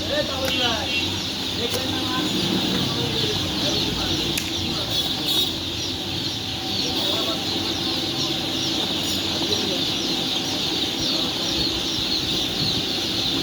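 Day-old chicks of several breeds, including super hybrids, crowd a poultry hatchery and give off a dense, continuous chorus of high peeping chirps that runs steadily throughout.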